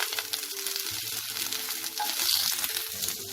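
Chopped carrots and beans fried and stirred in a pan for a healthy breakfast, a close, continuous sizzle with soft stirring scrapes.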